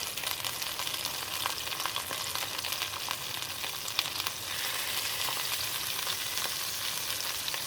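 Shrimps and zucchini sizzle steadily in a hot pan while being stirred, a continuous close frying hiss broken by small scraping and stirring sounds, with no voices.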